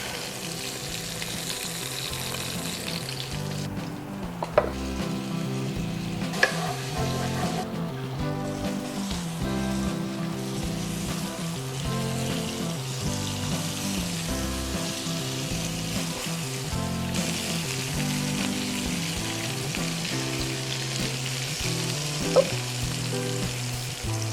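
Ground beef Salisbury steak patties fry in a skillet with a steady, close sizzle that runs throughout, partly masked by tonal background music and a few brief clinks.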